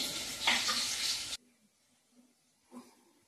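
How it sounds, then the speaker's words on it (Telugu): Onions frying in oil for a brinjal and potato curry make a loud, close sizzle that cuts off abruptly after a moment, leaving near silence and one soft clink. "ఉల్లిపాయలు అయితే వేగుతున్నాయి"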